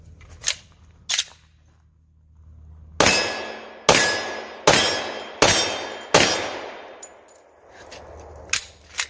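Several loud, sharp pistol shots from a Glock 40 in 10mm firing 180 grain full-power loads, five reports in fairly quick succession. Each one rings out and decays. Fainter clicks and handling noises come before and after the shots.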